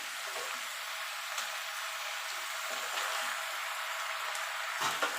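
Fresh spinach dropped into a hot pan of fried eggplant and mixed vegetables for a vegetarian curry: a steady, fairly soft sizzling hiss with a few faint crackles and stirring scrapes, and no speech.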